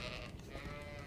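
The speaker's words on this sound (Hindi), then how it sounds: "जरा भेड़ों को बांधने में मेरी मदद कर दो" Sheep bleating briefly in a cold winter setting, a short, fairly faint wavering call heard alone against a soft background.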